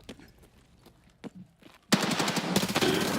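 Gunfire in the video game Escape from Tarkov: a few scattered distant shots and clicks, then a loud, sustained burst of rapid automatic fire that continues close and dense to the end, with no talk.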